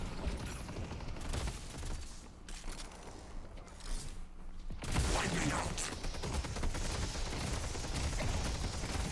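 Rapid gunfire from shooters in the game Deadlock, a dense crackle of shots that grows louder and busier partway through and keeps going steadily to the end.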